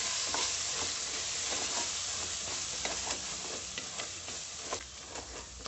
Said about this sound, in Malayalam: മല്ലിപ്പൊടി മുളക് പൊടി എല്ലാം കൂടി ഒന്നുകൂടി ഒന്ന് വഴറ്റിയെടുക്കാം